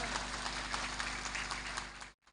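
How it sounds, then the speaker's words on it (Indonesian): An audience at an Islamic boarding school sermon in Pemalang claps for Banser in a dense, steady burst of applause that stops abruptly. "Tepuk tangan untuk Banser."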